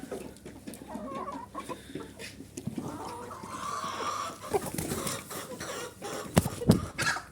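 Chickens and roosters in a coop at evening feeding with boiled potatoes and mash, clucking and squawking steadily up close, with scattered flutters and sharper calls near the end.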